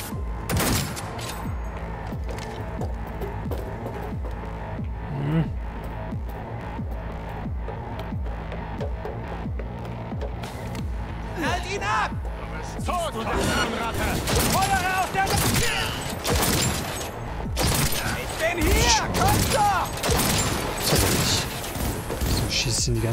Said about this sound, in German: Hier könnt ihr auch mal ein bisschen schießen.